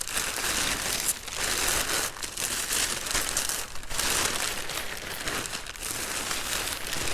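Packing paper crumples and crinkles continuously at close range while being pulled out of a Van's Aircraft RV-8 empennage kit box during unboxing, with rustling bursts and short pauses and no talking.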